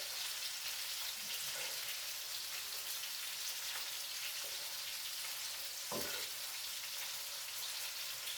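Spinach cooks down in a skillet, giving a soft, steady frying hiss with a few faint stirring clinks, fairly quiet and without talking.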